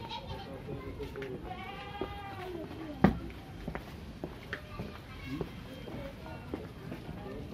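Goats bleating on a steep hillside, a few wavering cries near and far over footsteps, general commotion and people talking.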